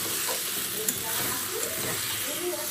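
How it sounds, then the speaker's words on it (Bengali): Spice masala for ghugni fries in a pan while being stirred, giving a continuous loud sizzle broken by scraping strokes of the spoon. "এখানে মশলাটা কষাচ্ছি"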